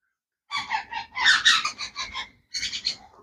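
Shrill, raspy conure parakeet calls close by, several bursts of squawks in quick succession with a brief pause before a final cluster.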